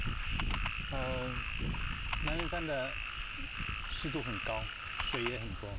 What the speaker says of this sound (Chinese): 从声音中我们知道这是白函树蛙。